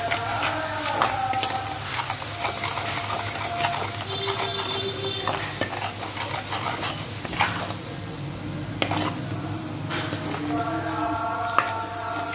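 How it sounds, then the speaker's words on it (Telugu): Ginger garlic paste and tomato puree fry in a pan at home, a steady close sizzle with occasional stirring clinks and scrapes, while a dog barks faintly in the background. "ఇది కొంచెం పచ్చి వాసన పోయేంత వరకు ఫ్రై చేసుకుందాం."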